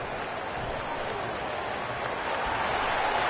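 Stadium crowd in a college football video game roars after a punt return, a broad sustained cheer with scattered clapping that swells toward the end.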